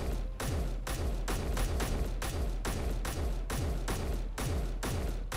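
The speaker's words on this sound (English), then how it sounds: "So I'm going to empty this mag" A rifle in the Space Engineers video game empties a full magazine, about a dozen evenly spaced loud shots in a steady rhythm, each with a deep booming tail.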